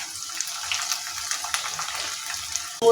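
Garlic and onion frying lightly in a pan for a dried Bombay duck (loitta shutki) bhuna, giving a steady, close sizzling hiss throughout, with a short knock near the end.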